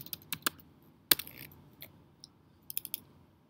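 Keys tapped on a computer keyboard while entering a saved view name in ArchiCAD, in short irregular bursts of clicks with a sharper keystroke near the middle and a quick cluster at the end, quiet and close with no talk.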